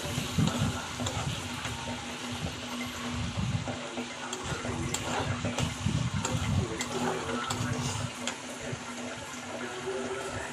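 Spices with turmeric and kasuri methi sautéing for bombil chutney, a continuous sizzle with scraping stirs and irregular clinks from a close pan, lasting several seconds with a voice speaking faintly at moments.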